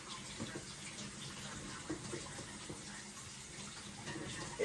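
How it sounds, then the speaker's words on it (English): Tap water runs steadily from a kitchen faucet as an avocado is rinsed under it, a continuous close splashing hiss with no talking. "Wash the avocado."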